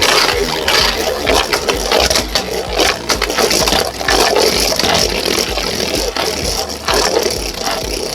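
A metal Beyblade, Colossal Helios, spins in a plastic stadium with a continuous scraping, rattling whir, loud and close, with small clacks as it rides the edges.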